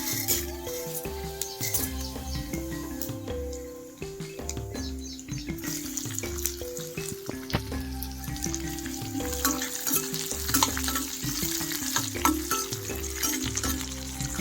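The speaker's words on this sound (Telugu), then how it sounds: "ఒక స్పూను శనగపప్పు ఒక స్పూన్ మినపప్పు రెండు స్పూన్లు జీలకర్ర ఒక ఎల్లుల్లిపాయి వేయించేసుకుందాం" Chana dal, urad dal, cumin and garlic frying in oil for a hotel-style chutney make a busy, crackling sizzle that runs throughout, close by and beneath steady background music.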